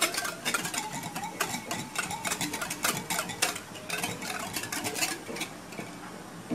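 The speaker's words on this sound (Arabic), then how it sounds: "نخلط شوية" Bread dough mixture of yeast and oil stirred in a bowl: a utensil knocks and scrapes against the side in quick, steady, close clinks that repeat throughout.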